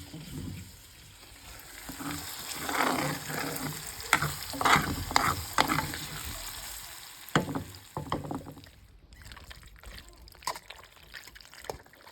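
Vermicelli pasta cooks in a pan in a village kitchen, a close sizzle with watery bubbling and repeated stirring scrapes and clinks, fading toward the end amid a few sharp knocks.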